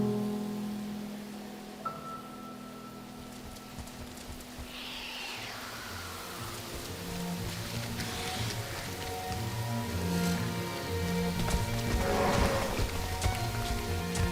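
Rain falls in a video game as a steady soft patter and hiss throughout, layered with sustained tonal sounds and a few low hoot-like notes.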